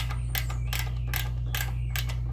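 Clamps on a boat trailer guide pole are tightened with a tool, giving five or six short ratcheting bursts in an even rhythm over a constant low hum, close up and with no speech.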